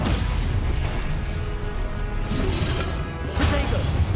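A Stupefy spell strikes in Hogwarts Legacy, a loud sustained wash of crashing magical impact with a sharp burst near the end, layered over continuous game-combat noise.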